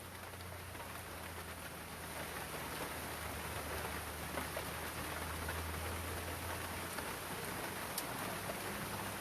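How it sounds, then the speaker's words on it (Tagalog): Steady, heavy rain pours down continuously, a dense wash of noise with a constant low hum underneath and no voices. "Lakas ng ulan."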